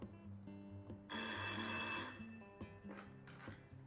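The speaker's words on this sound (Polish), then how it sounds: "a ja odbieram telefony" A landline telephone rings in the office of the Knyszyn Forest landscape park, one loud electronic ring burst of about a second standing out over a quieter background with faint tonal sounds before and after.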